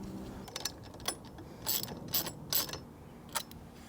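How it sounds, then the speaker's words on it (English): A wrench ratchets as it tightens nuts on a rear tire bike carrier for a Jeep or Bronco, quick metallic clicking bursts up close, several short runs separated by pauses. "Use the nut, and you just need the wrenches to tighten these on."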